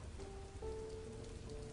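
Soft, steady rain hisses quietly in the background, with faint sustained tones drifting over the patter and no talking.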